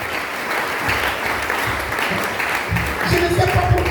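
A church congregation applauding in a steady, dense wash of clapping, loud and sustained, with voices and cheers mixed in toward the end.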